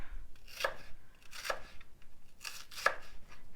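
A knife slices through onion in three crisp, evenly spaced chops on a cutting board, close and clear in a quiet room.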